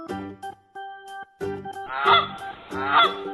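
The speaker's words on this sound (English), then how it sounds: "Goose." Repeated goose honks from farm fowl, sounding in a few spaced bursts with a louder, harsher pair of calls near the end, close and clear with no talk.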